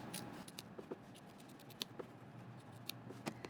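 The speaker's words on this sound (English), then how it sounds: "now go ahead and trim your seam allowance down to 1/4 of an inch" Fabric seam allowance is trimmed with scissors, producing a series of quiet, crisp snips at an irregular pace, close up against a faint background.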